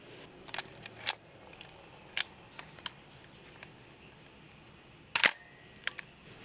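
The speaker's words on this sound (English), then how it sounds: "That shutter sounds angry." A Leica R4 film SLR fires its shutter several times at uneven intervals, each a sharp, close mechanical clack, with softer handling clicks between them and no speech.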